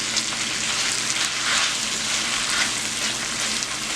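Corned beef breaks up and fries in hot oil in a pan, a loud, steady, dense sizzle and crackle that runs unbroken throughout with no voices.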